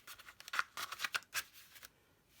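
Scissors cut out foil card pieces for a handmade greeting card, giving a quick series of soft, close snips over about two seconds, faint and alone, with no talking.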